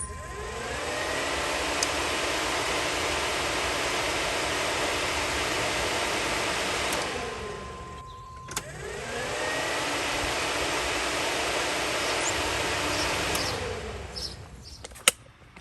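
A third-generation Chevrolet Camaro's fuel pump runs with the key turned to prime it, a steady whirring hiss that stops briefly around the middle before starting again. Faint clicks and ticks sit over the hum, and nobody speaks.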